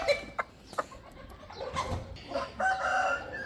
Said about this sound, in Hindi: हर खाने से मुर्गियों बेचारियों की पिटने की आवाज़ आ रही है।